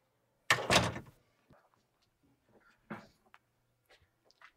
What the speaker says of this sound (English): Of course I'm going to shut the door behind me.